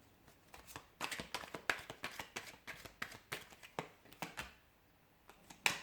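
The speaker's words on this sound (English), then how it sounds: "I'll give the cards a shuffle" Tarot cards riffle and shuffle in quick irregular bursts, soft and close, with short pauses between handfuls.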